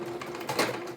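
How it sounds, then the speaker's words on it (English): A home sewing machine stitching a tote bag runs unevenly and malfunctions, giving faint rattling, clicking mechanical bursts with a steady hum and a brief louder clatter near the middle. "my sewing machine is not playing ball"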